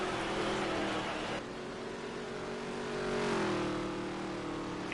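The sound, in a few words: dirt race cars racing, heat race at Las Vegas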